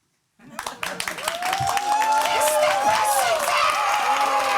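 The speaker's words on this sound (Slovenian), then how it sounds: "Prosim, zaploskajmo na glas." A studio audience breaks into applause at a TV show: clapping starts sparse, then swells into loud, steady applause mixed with cheering, whoops and excited shouting voices.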